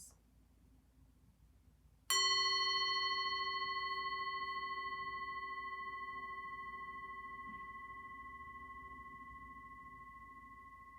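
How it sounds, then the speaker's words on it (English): A meditation bell is struck once after a short quiet pause, giving a clear ringing tone with bright overtones. It sustains and slowly fades across many seconds in a still, silent room. "listen to the sound of the bell"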